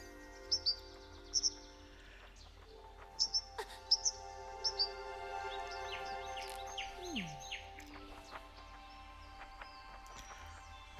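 Birds chirp and tweet in the video game Bye Sweet Carole, short high chirps in pairs at first, then scattered calls over a quiet ambient music bed.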